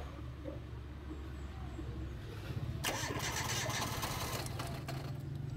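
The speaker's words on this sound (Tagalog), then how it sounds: "Medyo maingay lang guys yung pambelt niya" An engine with a noisy drive belt cranks and catches, then runs with a rough, noisy whine and rattle over a steady idle, fairly close.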